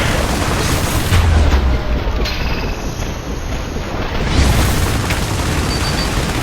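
Airstrike explosions in the IS Defense video game on the Mainland level: a steady, loud roar of blasts with two deep, heavy booms, one early and one late, and no voices.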